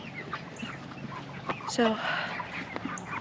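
Meat chickens cluck and call softly around a farm pen, scattered faint clucks and a brief squawk, with a person speaking nearby.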